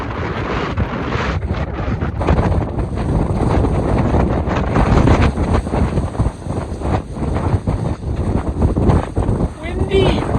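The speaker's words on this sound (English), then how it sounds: "Super windy!" Loud, continuous wind roars and buffets the microphone on a steep stretch of the Pacific Crest Trail between Tehachapi and Kennedy Meadows, a heavy low rumble with gusty surges lasting throughout.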